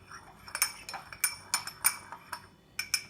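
Fish stock powder being stirred into two tablespoons of water in a small glass, a quiet series of light, irregular spoon clinks and taps against the glass.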